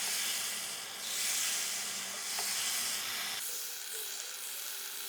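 Battered jackfruit pieces fry in hot oil with a continuous, close hissing sizzle that swells and eases in soft waves, with no voices over it.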